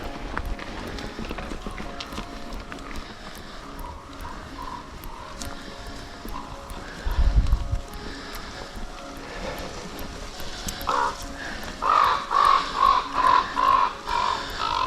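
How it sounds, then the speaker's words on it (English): Crows calling with a series of rhythmic caws that grow louder toward the end, over steady outdoor ambience on a park trail near Thetis Lake, with a brief low thump in the middle. "Funny crows making all kind of sounds."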